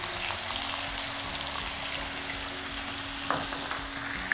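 Asafoetida and green coriander chutney hitting hot oil in a pan: a loud, continuous crackling sizzle close up, with a brief clatter near the end.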